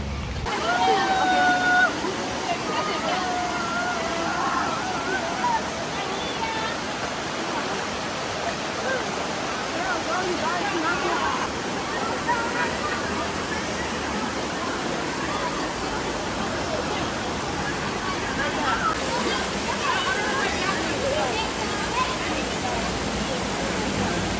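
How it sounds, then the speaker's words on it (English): A river runs in Jamaica after a beach day, giving a steady, broad rush of flowing water that lasts throughout, close and even, with faint voices in the background. "You can probably hear the river running right now."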